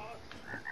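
Brief frog croak in a children's animal-toy game, faint and short with a couple of chirpy bursts, likely from a toy or a voice imitating the frog.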